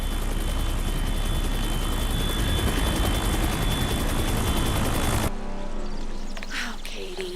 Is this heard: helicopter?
yes